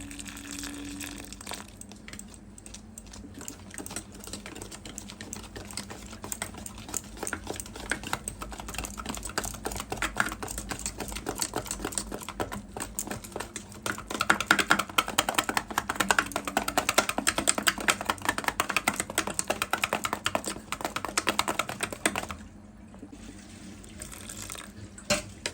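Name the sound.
whisking palak pakora batter after adding water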